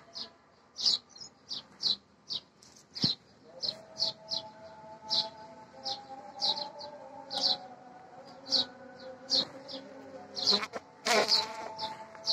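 Honeybees buzz around hives kept in shade during hot weather, with a steady insect drone and repeated sharp high chirps or clicks over a low background hum, fairly close.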